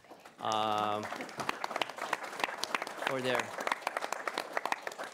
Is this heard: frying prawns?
no